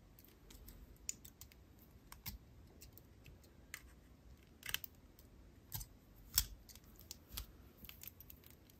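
Small wire cutters snipping the excess wire tail while wrapping a loop on a beaded Valentine's necklace, with soft scattered clicks and a few sharper snips, close and quiet with no talking.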